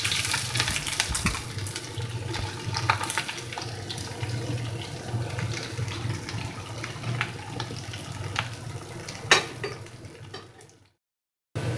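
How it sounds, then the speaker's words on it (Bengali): Chopped onion frying in hot mustard oil for a Bombay duck fish jhuri, a steady broadband hiss and crackle that holds for about ten seconds before cutting to silence. "দিয়েছি সর্ষার তেল, দেখো তেলটা ভালো করে গরম হয়ে গেছে, এবার আমি তাতে দিয়ে দেব পেঁয়াজ"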